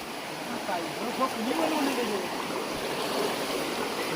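A shallow freshwater stream flows over stones and sand, giving a steady, close babble and rush of water with no pauses, heard on its own throughout.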